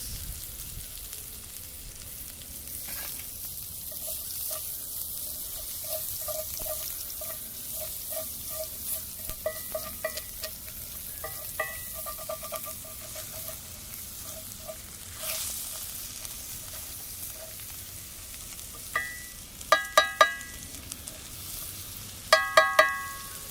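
Bacon, avocado and shallots fry on a titanium plate outdoors in a backyard, giving a steady low sizzle with scattered pops and utensil clicks and scrapes, growing louder toward the end.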